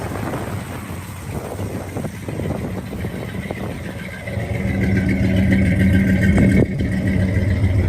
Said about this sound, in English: Headers on it, power steering, power brakes, there's the engine, sounds good. Runs nice and smooth.